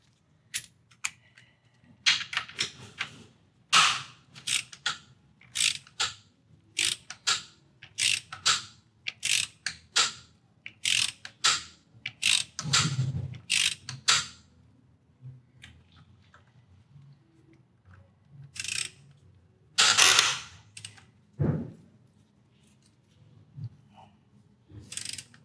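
A ratchet loosens an exhaust bolt on a Yamaha XSR900 during an Akrapovic exhaust install. Close, crisp clicking comes in quick bursts of strokes with short pauses between, and nobody speaks.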